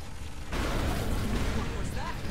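Bombs go off in Saints Row 4, a sudden loud booming blast that swells into a sustained rumbling roar, with voices talking faintly underneath.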